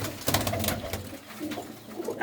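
A black pigeon coos softly nearby in a loft, a low rolling call repeating over a couple of seconds.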